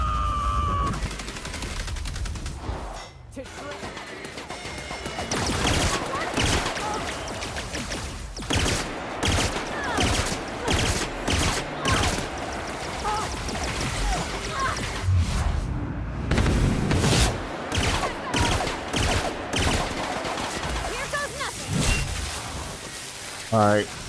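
Rapid gunfire bursts and booms in The Outer Worlds, loud and fairly continuous across the stretch, with a person talking over the shooting.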